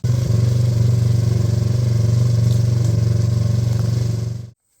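A fence-post auger, set up among trees, roars loudly and steadily while drilling a post hole, holding a constant engine drone before cutting off abruptly at the end.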